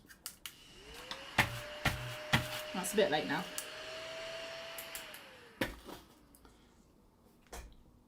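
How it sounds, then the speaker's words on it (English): Small handheld vacuum cleaner used at a desk while working on a sketchbook, a steady whine rising for a few seconds then winding down, amid clicks and knocks, with a brief spoken remark partway through. "Oh, I have my little vacuum."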